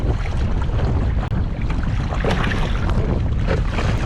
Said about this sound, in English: it's starting to get a little bit breezy out here